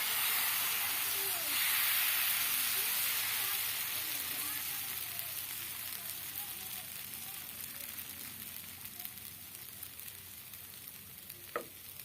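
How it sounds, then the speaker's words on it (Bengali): Dosa batter hits a hot tawa and sizzles in a loud, steady hiss that slowly softens over several seconds, heard up close with a faint clink near the end. "তাওয়াটা গরম হয়ে গেছে, চেকও করে নিয়েছি। এবারে দিয়ে দেবো ব্যাটার।"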